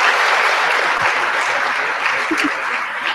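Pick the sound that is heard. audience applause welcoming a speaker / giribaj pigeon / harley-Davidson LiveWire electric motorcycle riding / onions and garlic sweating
audience applause welcoming a speaker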